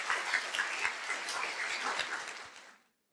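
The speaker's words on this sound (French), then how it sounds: "Un tonnerre d'applaudissements pour Ewen Le Calonnec." Audience applause at a student eloquence contest in a university hall, a dense sustained clapping of many hands that holds steady for nearly three seconds and then stops abruptly.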